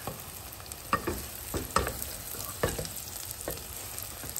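A spinach omelette with tiny dried shrimp fries in a pan, giving a steady low sizzle broken by several sharp scraping and stirring knocks from a utensil, heard up close with no voices.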